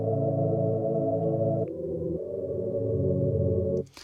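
A sustained choir-like whistling monks vocal pad from the Nexus voice expansion plays dry without effects, thick with low end, shifting chord once midway before cutting off; steady and moderately loud, no talking.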